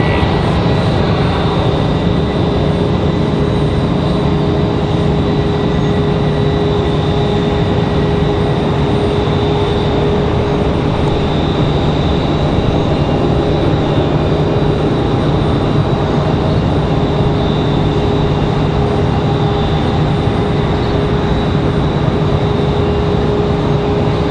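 Airliner touching down on the runway at Raleigh-Durham airport, a steady distant engine roar and rushing hum with faint tonal whine, sustained without talk.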